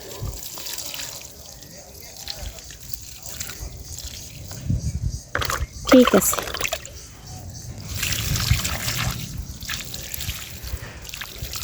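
Water poured onto thirsty plants growing in cracked, dry soil in a village setting, a steady splashing trickle with a louder gush midway, close by, while a voice speaks over it.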